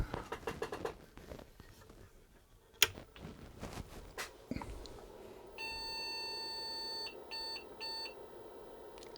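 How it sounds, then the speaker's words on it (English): An IBM PC 5150 gives power-on error beeps, heard as a steady electronic tone from about five and a half seconds, then short repeated beeps, after clicks and handling noises. "a long beep and too short"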